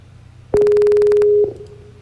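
A single steady ringback tone plays for about a second as an outgoing phone call tries to connect, loud and close, with low room noise before and after.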